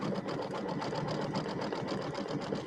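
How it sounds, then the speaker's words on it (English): An embroidery machine works satin stitches in white thread on a bunny design for an Easter pillow, producing a steady, rapid, close mechanical chatter with a fine repeating pulse throughout. "So now we're going to do the satin stitches on the bunny."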